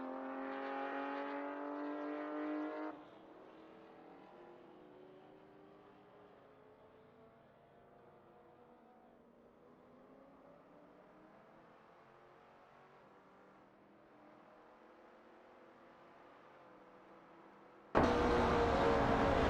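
Racing cars in an AI racing video game speed away, with a loud harmonic engine whine that drops suddenly to a fainter, distant droning hum with rising pitch sweeps, then a sharp loud burst of engine noise at the end.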